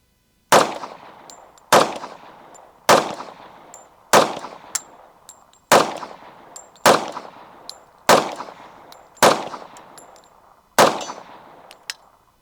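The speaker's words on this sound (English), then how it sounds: "he's gonna take a few rounds to show you guys the nice recoil management on that 45" Eight sharp .45-caliber shots from a 1911 pistol ring out at a steady pace roughly a second and a half apart, each loud crack followed by a short metallic ringing decay, with no talking.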